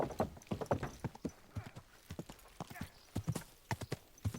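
Horse hooves clip-clop in a steady walking rhythm in Kingdom Come Deliverance II, close and moderately quiet, with a voice speaking softly to the horse over the hoofbeats.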